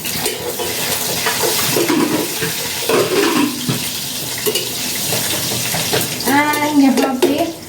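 Cumin seeds, curry leaves and chopped chilli hit hot oil in a pan for sabudana khichdi, giving a steady loud sizzle and crackle throughout with some stirring scrapes and no talking.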